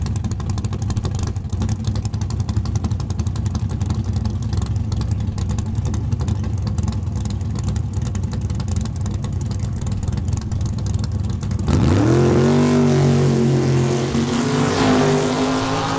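A drag racing car makes a single pass at Saskatchewan International Raceway, a loud sustained engine roar that continues, then shifts into rising revving tones near the end.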